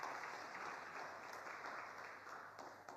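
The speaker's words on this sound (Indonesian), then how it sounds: "Beri tepuk tangan bagi Tuhan" A church congregation applauds together in a steady, even patter of many hands. It sounds distant and faint and continues unbroken for the whole stretch.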